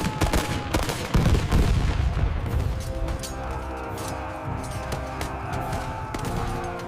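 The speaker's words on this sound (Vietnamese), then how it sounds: "bắn" Gunfire in a dramatized historical battle scene: dense, rapid volleys of shots and booms crowd the opening seconds, then settle into a sustained roar of rumbling combat with a musical drone underneath.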